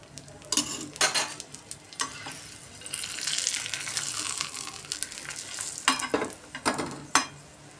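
Egg paratha roasting on a pan with ghee poured over it: a soft, close sizzle that swells in the middle, framed by several sharp spatula scrapes and taps on the pan, no voices.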